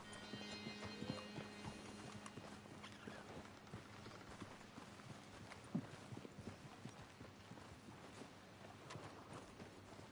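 Horse hooves clip-clopping at a steady walking pace in Red Dead Redemption 2, close and fairly quiet, with a faint outdoor ambience and no talking.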